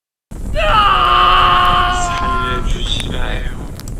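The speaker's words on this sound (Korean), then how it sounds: "그곳에선 비명 소리가 들려온다." Loud, sustained anguished screams rise and waver, layered with groans, evoking tormented souls in a fiery hell.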